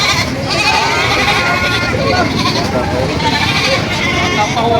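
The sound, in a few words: goats bleating on a farm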